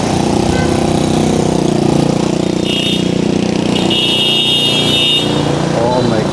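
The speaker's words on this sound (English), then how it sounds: "Look at these bikes." Motorbike traffic fills a main road in Hanoi, a loud, dense, steady drone of many small engines passing close by, with horns and a person talking over it.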